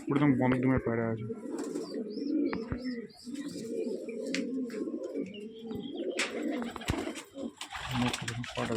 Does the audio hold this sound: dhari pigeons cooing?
yes